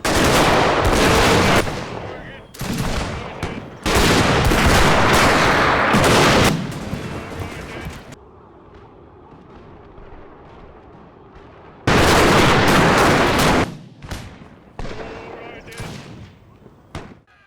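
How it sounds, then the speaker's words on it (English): Gunfire in a Total War cinematic battle between Zulu warriors and British forces, heard as loud bursts of volleys and rifle shots separated by a quieter stretch, with a voice talking over parts of it. "The Zulus then shot again, and the Natal native contingent responded."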